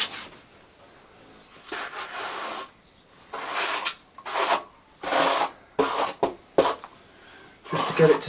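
A trowel scraping over block paving on a driveway, in a series of short, rough rasping strokes, close and fairly loud, separated by brief pauses.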